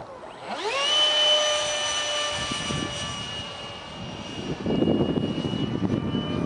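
A 70mm electric ducted fan RC jet on a Detrim combo kit, fed by a 2200 mAh 40C LiPo, spools up into a loud, steady high-pitched whine that holds for several seconds, with rougher rushing air toward the end.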